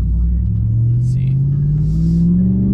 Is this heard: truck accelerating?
yes